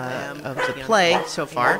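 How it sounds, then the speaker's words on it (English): A dog yips and barks in short bursts during a woman's speech while a tabletop role-playing podcast is being recorded, the barks mixed closely under her talking. "That's my dog."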